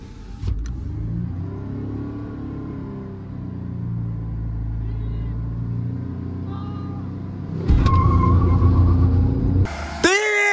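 Tata Altroz 1.2 and Hyundai Elite i20 1.2 hatchbacks in a drag race, with steady engine rumble and a louder surge of revving near the end, while voices talk over the engine noise.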